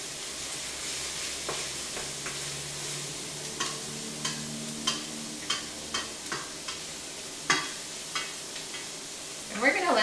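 Corn kernels roast in a pan with a steady sizzle, and a utensil stirs them in a series of sharp scraping clicks. The sounds are close and moderately loud, and there is no talk.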